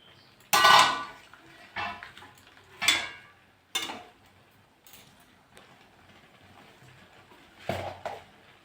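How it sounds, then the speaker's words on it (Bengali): Opening a pot lid and stirring cabbage with potatoes and beans: several separate metallic clanks and scrapes of a lid and spoon against the pot, spaced out with quieter stirring between, close and fairly loud, no talking. "এটা একটু ঢাকনাটা খুলে নেড়ে দেবো।"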